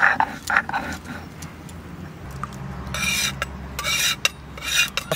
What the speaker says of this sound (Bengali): এটা এবার গরম অবস্থা আমি গুঁড়ো করে নেব।